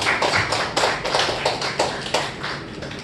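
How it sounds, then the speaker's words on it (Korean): A small church congregation claps in welcome after a baptism, a short burst of uneven, fairly close applause with no talking. "자, 우리 한번 박수로 환영과 축복해 주시기 바랍니다."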